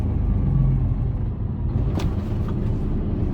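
A Mercedes Actros HGV rolls over a bumpy stretch of road toward an industrial estate, heard from the cab as a deep, constant engine and road rumble with a couple of brief knocks and rattles as it jolts over the rough surface.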